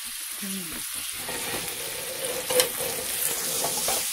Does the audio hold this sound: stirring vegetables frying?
yes